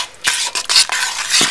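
A spoon stirs agave into marinara sauce in a pot, making several short, close, wet scraping strokes in an uneven rhythm.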